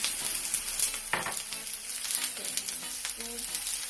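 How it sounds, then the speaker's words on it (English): Onions and garlic fry in a pan for a Jamaican tin mackerel dinner, giving a soft, continuous sizzle with occasional stirring clatter. "we can start adding our ingredients. Our onions and garlic."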